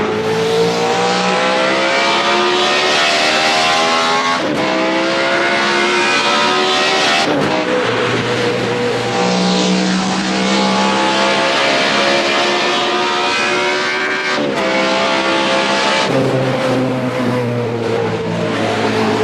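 Loud video game race car engine revving and climbing through gears, pitch rising then dropping at each shift, repeating several times with a faint tire squeal.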